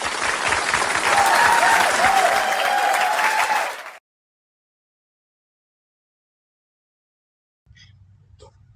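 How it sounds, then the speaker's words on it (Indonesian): Audience clapping after a school debate round, loud dense applause with a few cheers for about four seconds, then silence before faint voices resume. "Jadi sekali lagi tepuk tangan,"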